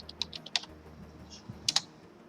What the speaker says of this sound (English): So I'm going to type sticky note transparent.